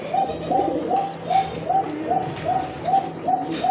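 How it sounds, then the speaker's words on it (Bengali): A pigeon at a pigeon sale coos in a steady rhythm, about nine loud, close, rounded coos repeating evenly with no voices over them. "কবুতর দেখতে পাচ্ছেন খুবই সুন্দর একটা কবুতর"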